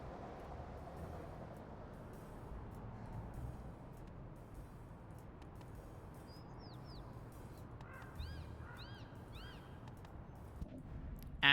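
A cartoon cat meows in the video game Little Kitty, Big City, a few short rising calls in the second half over a steady game ambience and background music.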